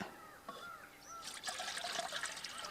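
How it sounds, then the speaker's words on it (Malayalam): Water poured into a wok on a kitchen stove while making homemade wheat flour noodles, a close, steady trickling and splashing that starts partway through, with faint crow calls in the background. "ഞാൻ അതിന് വേണ്ടി ഒരു ചീനിച്ചട്ടി അടുപ്പത്ത് വെച്ചിട്ടുണ്ട് ഇനി നമുക്ക് അതിൽ കുറച്ച് വെള്ളം ഒഴിച്ചു കൊടുക്കാം"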